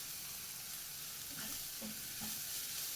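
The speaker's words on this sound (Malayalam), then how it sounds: "ഇനി ഈ മസാല എല്ലാം കൂടെ നമുക്കൊന്ന് ഇളക്കി വഴറ്റിയെടുക്കാം." Soya masala with kasuri methi sizzles quietly in a pan while a spoon stirs it, making a soft, continuous frying hiss with a few faint scrapes.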